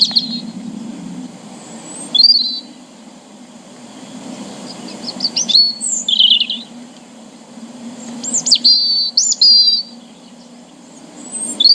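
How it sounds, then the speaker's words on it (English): A robin sings in short, bright, warbling phrases separated by pauses, with a steady low hum and faint insect-like background underneath. "And the answer is the robin."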